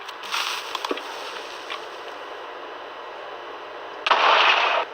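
Two short Minecraft explosion bursts, a rough crackling blast near the start and a louder sharp one near the end, with quiet between them.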